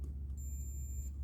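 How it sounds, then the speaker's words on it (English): A multimeter in continuity mode gives a steady high-pitched electronic beep when its probes touch, used to test wiring on a 1993 E.D. Cherry Master arcade gaming machine. The single tone lasts under a second over a faint low hum. "I have my meter set to continuity mode so that when the probes touch, I get that beep."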